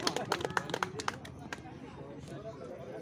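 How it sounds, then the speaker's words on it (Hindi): A short patter of hand claps from people gathered at a community meeting in a temple, fading after about a second into murmuring voices. "तालियां बजाते रहे सभी साथी"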